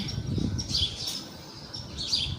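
Several birds chirp in a countryside setting, a few high, short tweets rising over a low, constant outdoor ambience, moderately close.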